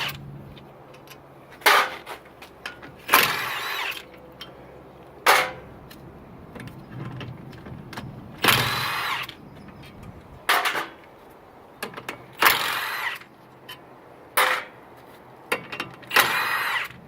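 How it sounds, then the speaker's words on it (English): Sharp intermittent bursts of an impact wrench loosening 14mm brake caliper bolts on a 2001 Nissan Frontier, several short rattling hits spaced a few seconds apart over a quiet background; close. "you want to go ahead and take off 14mm bolts"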